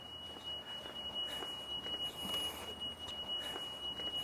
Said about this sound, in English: I can see that I have my audible and visual alarm for my rear emergency exit